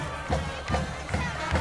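A crowd at a high school football game on a Friday night in Michigan cheers in a steady far-off roar, with rhythmic swells of chanting about every half second.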